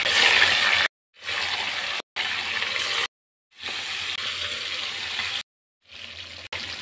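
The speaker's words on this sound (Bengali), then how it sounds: "এখন বাকি মাংসগুলো আমি এপিট ওপিট করে একইভাবে ভেজে নেব।" Meat pieces frying in hot oil in a pan while being turned, giving a loud, continuous sizzling hiss broken by several abrupt cuts.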